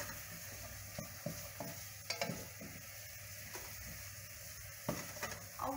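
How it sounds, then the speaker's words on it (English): Macaroni and cheese with butter stirred in a pot, faint soft sizzling under quiet scraping and occasional spoon taps against the pot, irregular and close. "I'm just going to stir it here a little bit more."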